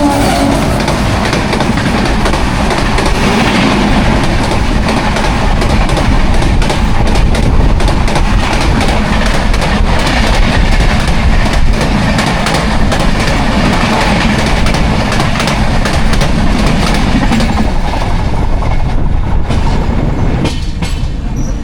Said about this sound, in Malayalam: അപ്പോൾ നമ്മളെ കുറച്ച് നേരം കാത്തു നിർത്തിയിട്ട് കൊങ്കൺ കന്യ എക്സ്പ്രസ് വരും